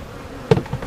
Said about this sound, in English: Whole bunch more bees up in the super.